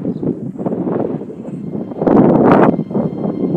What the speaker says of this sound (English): It's really fucking windy, by the way.